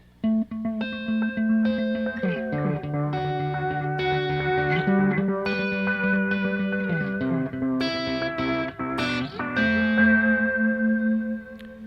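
An electric guitar plays through a delay pedal with hall reverb, sustained, shimmering chords with echoing repeats and a wide, swirling reverb tail. It stays loud and continuous with no voices.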